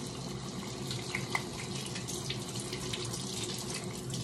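A water tap runs steadily into a sink as a dirty hand is rinsed under the stream, a quiet continuous splashing hiss with a faint clink partway through.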